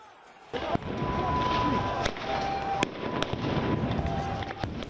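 Several sharp, loud bangs of stun grenades burst out over a steady roar of crowd noise and commotion at a mosque compound, with a thin whistling tone running through.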